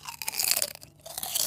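Someone bites and crunches into a piece of food during a family dinner, producing a close, loud burst of crisp crunches with brief chewing between them.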